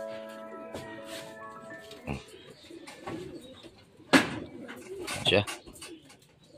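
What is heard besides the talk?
racing pigeons arriving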